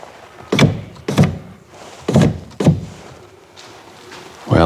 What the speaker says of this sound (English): I can't get the door to shut